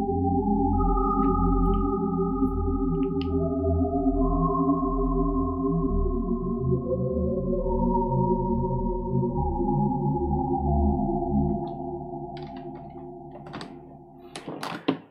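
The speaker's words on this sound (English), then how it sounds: "the idea behind the sound was trying to make a pad out of really, really simple sounds." A Sytrus software synthesizer pad built from very simple tones plays with FM switched off, sustaining smooth, layered chords with reverb and chorus that fade near the end.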